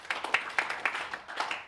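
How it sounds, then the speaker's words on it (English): Brief scattered applause from a modest audience at a sales talk, a few claps spaced irregularly, fairly quiet and short. "Good round of applause for Ryan for trying this."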